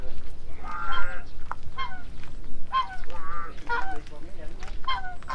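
Several geese honk loudly and repeatedly close by at a fishing lake in Thailand, their calls overlapping in a noisy, rapid chorus.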